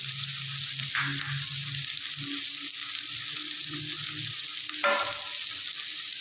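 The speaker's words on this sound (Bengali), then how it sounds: "ভালো করে একটু ভেজে নেব।" Onion pieces frying in a pan for veg manchurian, a continuous moderate sizzle with intermittent stirring scrapes and a sharper clink of the spatula near the end.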